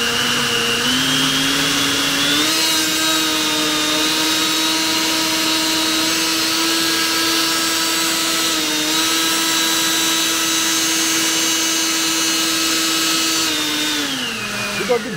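A 3D-printed jet blower with a TPU bottom cover whines steadily at high speed throughout, loud and close, spinning up at the start and winding down near the end.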